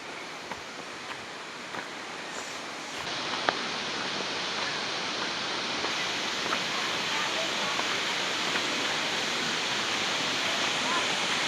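Suruli Falls, a waterfall, pours with a steady broadband roar that stays loud and unbroken throughout, and occasional faint knocks sit beneath the constant rush of water.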